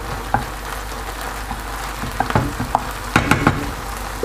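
Onions and mushrooms (honey fungus) sizzling and frying in a partly covered pan with a steady hiss, punctuated by occasional pops and crackles.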